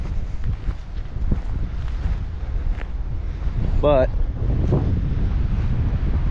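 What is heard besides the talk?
wind blowing by a pond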